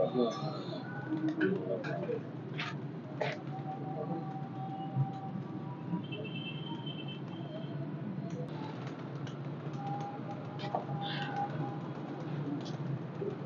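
Pet pigeons cooing in a Rawalpindi loft, a continuous low murmur of many birds with occasional higher calls and chirps, fairly close, while someone talks over them.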